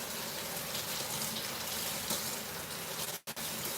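Steady rushing stream of tap water running continuously while an ice maker part is washed, loud and even, with a sudden brief cutoff near the end.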